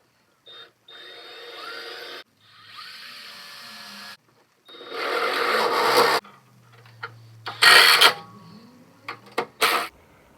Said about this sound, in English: So I'm going to try to get this lined up, marked, and I'll start drilling.